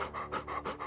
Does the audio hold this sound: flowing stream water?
no